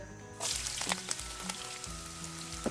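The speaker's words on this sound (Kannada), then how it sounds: "ಸೊ ಫಸ್ಟಿಗೆ ಕ್ಯಾರೆಟ್ ಮತ್ತು ಬೀನ್ಸ್ ಹಾಕಿ ಮತ್ತು ಮೆಣಸಿನ್ಕಾಯಿ ಹಾಕಿ ಫ್ರೈ ಮಾಡಕತ್ತೀನಿ" Carrots, beans and green chillies fry in hot oil, a close, steady sizzle that swells as the vegetables go in and crackles on continuously with faint tonal sound in the background.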